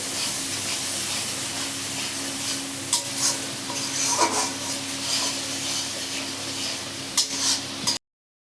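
Masala for a pabda fish kalia sizzling and being stirred in a pan, a constant close hiss with occasional scraping strokes near the middle and end before the sound cuts off abruptly.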